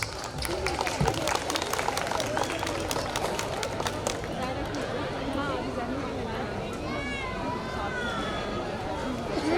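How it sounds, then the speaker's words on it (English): An audience claps after a dance performance at an Independence Day cultural program, a dense, continuous patter of applause mixed with crowd chatter, and a voice rises over it near the end. "Let's give them a huge round of applause."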